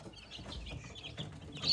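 Hens clucking softly with faint high peeps of newly hatched chicks, close by and quiet, in short irregular bursts.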